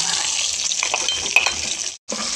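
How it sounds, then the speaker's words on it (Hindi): Onions sizzle steadily in hot ghee in a pan where chicken was cooked, a dense continuous frying hiss with a brief clink and a momentary break near the end. "तो इसी घी में प्याज को भी ब्राउन करना है।"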